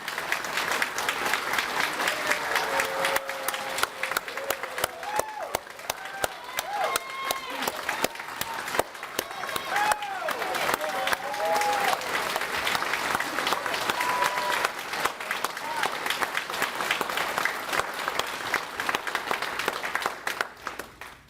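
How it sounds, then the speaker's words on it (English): Loud, continuous applause from the audience at a Navy Chief Petty Officer pinning ceremony at Norfolk Naval Shipyard, a dense roar of clapping with some crowd voices and cheers running through it. "Thank you for the round of applause."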